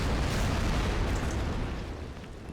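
Artillery fire in the World War II strategy game Order of Battle: Pacific, at the Battle of Okinawa: a loud, sustained rumbling boom that fills the clip and slowly fades toward the end, with no talking.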